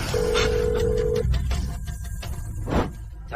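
A telephone gives a steady dial tone, then short tone bursts follow as a number is keyed in, set in a tense drama scene with no talking.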